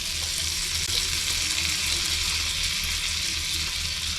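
Butter toast with chili flakes frying on low gas, giving a loud, continuous, even sizzle of butter in the pan with no break throughout.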